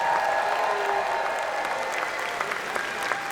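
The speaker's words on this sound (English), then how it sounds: "Get a big round of applause to our other guest of honor, Charlie Adler." Audience applause fills the hall at a fan convention's opening ceremony, a steady, loud wash of clapping that holds for several seconds with a few sharper claps near the end.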